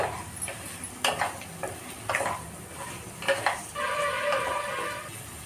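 A spoon scrapes and taps against a pan while a bottle gourd and drumstick curry is mixed, giving a few distinct clinks at irregular intervals over a soft sizzle. A steadier metallic rattle comes in toward the end.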